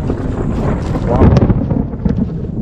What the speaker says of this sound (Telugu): ఉరుములు అయితే ఫుల్ ఉరుముతున్నాయి